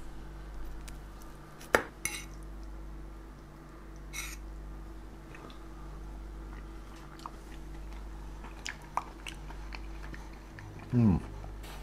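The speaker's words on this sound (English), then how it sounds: "I'm going to spoon out a small portion, give it a taste" A spoon scoops a small portion of hot homemade fish pie from its dish, giving a few sharp clinks and soft scrapes against the dish over a steady low kitchen hum, with a brief voice near the end.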